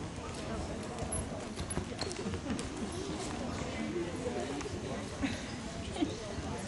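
Horses canter around an indoor arena during a riding competition, their hooves thudding in a loose, rolling rhythm beneath a steady murmur of voices and arena noise.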